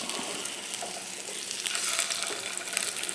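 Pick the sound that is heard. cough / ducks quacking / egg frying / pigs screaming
egg frying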